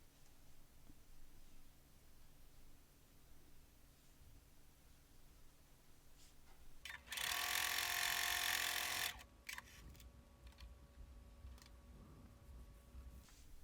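A sewing machine stitches a quilt-as-you-go log cabin square, a dense steady whir that runs for about two seconds amid quiet room noise, with faint ticks around it.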